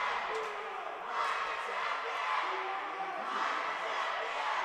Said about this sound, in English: Ooh, and the customary cheer